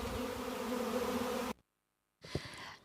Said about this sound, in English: So I'm actually surrounded by honeybees.